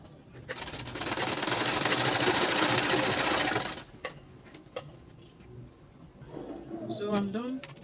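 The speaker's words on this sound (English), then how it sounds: "So I'm going to go ahead now and hem the ends." A sewing machine hems baby dress fabric in a fast, steady whir for about four seconds, then falls quiet while a voice speaks and faint birds chirp in the background.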